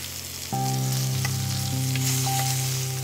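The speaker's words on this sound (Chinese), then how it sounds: "油热之后下羊排，不要急着翻面儿，等底面煎上色之后再翻面儿" Lamb chops sear in hot olive oil in a smoking pan, a steady close sizzle that jumps louder after half a second and holds, with faint tonal hums underneath.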